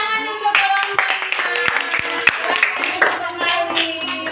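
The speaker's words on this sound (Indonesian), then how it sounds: "tepuk tangan untuk kelompok" Classroom applause for a student group in a fourth-grade science lesson, scattered children's claps mixed with bright young voices and chatter, uneven and close.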